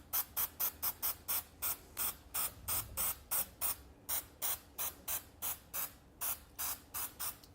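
Short, sharp hissing bursts from a spray can of adhesive applied to an acrylic panel frame, about twenty quick, evenly spaced puffs in a fast intermittent rhythm, close and alone.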